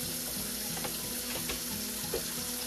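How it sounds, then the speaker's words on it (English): Warm water runs steadily from a kitchen sink faucet, a continuous close splashing stream with a few faint clinks of dishes, and no talking over it. "let's get some warm water started"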